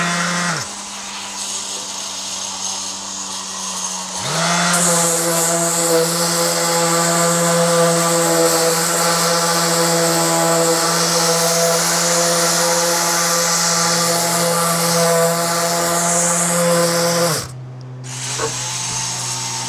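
Power sander working on parts of a wood-fired oven, a loud steady whine starting after a brief pause, holding a constant pitch for about thirteen seconds, then dropping off and restarting lower at the end.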